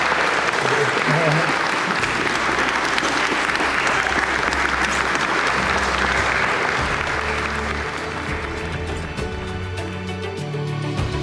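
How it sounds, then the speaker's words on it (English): A wedding crowd bursts into sustained applause for the newly proclaimed husband and wife, steady and dense clapping that fills the whole stretch, easing slightly toward the end. "I think it's a round of applause"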